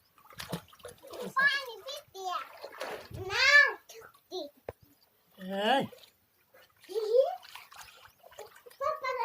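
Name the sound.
water being pulled and splashed by hand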